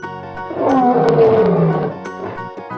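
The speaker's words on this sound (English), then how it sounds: "Lion." A lion gives a single loud, close roar that swells and fades over about two seconds, with no talk over it, set among cartoon-style wild animal sounds.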